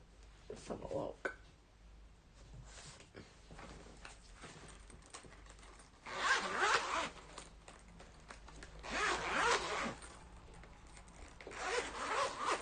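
An Arteza colouring-pencil case is unzipped in three separate bursts, each a close, crisp zipper pull with soft handling noise between them.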